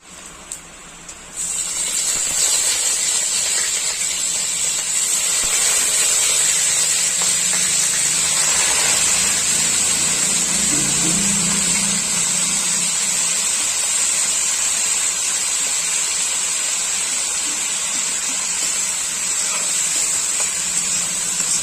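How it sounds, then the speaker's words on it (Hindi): Chicken frying in mustard oil in a kadhai makes a loud, steady sizzling hiss that starts abruptly and continues unbroken, close by, with no talking. "हम चिकन को तलेंगे, ज़्यादा नहीं तलना, हल्का सा तलना है।"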